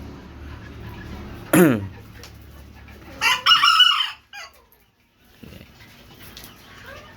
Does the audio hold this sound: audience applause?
no